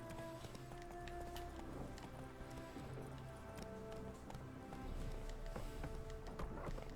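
Hooves of Roach, the horse in the video game Witcher 3, clip-clopping at a steady pace over a low, busy game soundscape, fairly quiet and without speech.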